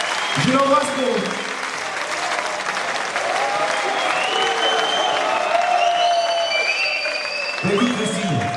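A gala crowd gives sustained applause for a singer, a dense wash of clapping that lasts the whole stretch, while a host talks over it at the start and again near the end.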